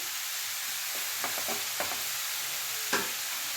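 Grated beetroot for palya is stirred in a hot pan, a soft sizzle running beneath several distinct spatula scrapes and pushes that come at an uneven pace.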